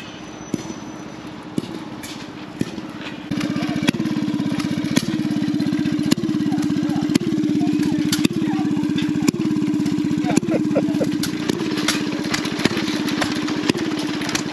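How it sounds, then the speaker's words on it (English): An old single-cylinder antique engine, a one-lunger at an engine show, chugs steadily nearby, its slow regular pops repeating over a low running drone. "Old one lung engine going up there. Pop, pop, pop."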